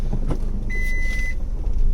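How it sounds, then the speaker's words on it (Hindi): Reverse parking sensor on a 2020 Maruti Alto 800 CNG BS6 hatchback gives a single steady high beep lasting about half a second, clear over a low engine idle and road rumble. "ये मेरा गाड़ी बैक में आने के साथ साथ एक आवाज़ बीप होती है पहले"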